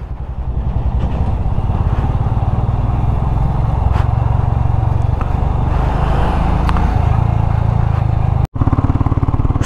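A motorcycle rides through traffic on a rough, dirty road in India, its engine droning loudly and steadily throughout with clattering road noise and a brief dropout near the end.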